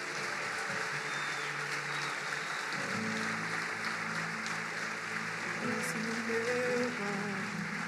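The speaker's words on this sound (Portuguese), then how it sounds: "Levante suas mãos e aplauda bem forte ao Senhor" Worship congregation applauding steadily during a prayer service, a dense, sustained wash of clapping that holds at an even level for several seconds, with low sustained music tones running underneath.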